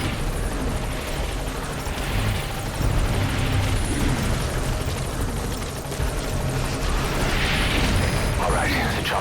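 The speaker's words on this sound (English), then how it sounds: "All right, the chopper's touching down." A helicopter touches down in Metal Gear Solid 5: The Phantom Pain, its steady rotor roar and engine rumble filling the scene continuously at a loud, close level, with game voices briefly over it.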